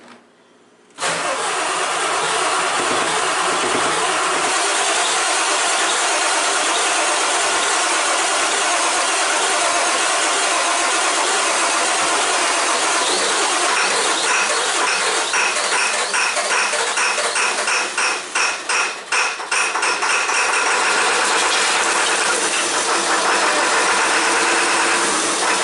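A Ford 7.3 Powerstroke diesel in a truck cranks and fires after sitting unused for a decade, then keeps running loudly and steadily up close, with some rattling mechanical clatter midway and no talking.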